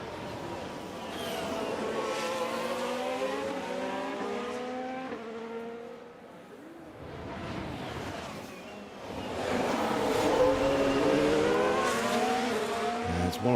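Formula 1 race cars scream around a track in the F1 Manager 24 video game, engines rising and falling in pitch as cars accelerate and pass, with a brief lull before another loud surge.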